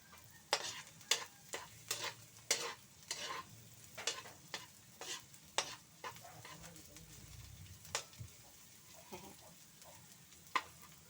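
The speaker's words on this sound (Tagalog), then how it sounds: "Hintayin muna natin mag golden brown yung bawang." Garlic sizzling and frying in a pan, a steady crackle with repeated sharp scraping stirs of a utensil against the pan, close and fairly quiet, with no talking.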